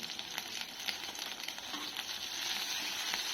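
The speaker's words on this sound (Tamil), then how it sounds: "3 சைஸ் பெரிய வெங்காயம், ஒரு கை கருவேப்பிலை எண்ணெயும் போட்டு நல்லா கிளறி விட்டுக்கோங்க" Large onions and a handful of curry leaves fry in oil for a tomato thokku, giving a steady, close crackling sizzle with light stirring, no voices.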